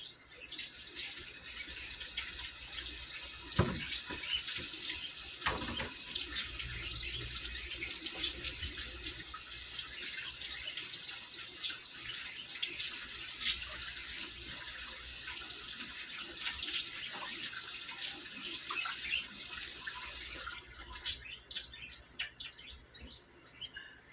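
Cooked pasta for an Italian pasta salad drains in a colander under a running kitchen tap, a steady broad water rush lasting about twenty seconds before tapering off, with a few clunks early on.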